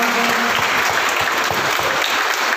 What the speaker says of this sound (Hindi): सारे टीम के लिए जोरदार तालियां